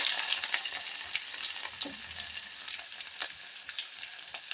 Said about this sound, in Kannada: ಸಾಸಿವೆ ಕಾಯಿಸಿ ಹಿಡಿದ ನಂತರ ಬೆಳ್ಳುಳ್ಳಿ ಹಾಕೊಂಡು ನೋಡ್ರಿ